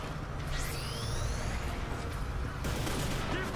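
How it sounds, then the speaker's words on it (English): Shotgun blasts in the third-person shooter Inversion, a few booming shots amid dense game noise and ricochet-like whines, close and loud, with no speech over them. "Oh, he's just shooting with the shotgun, okay."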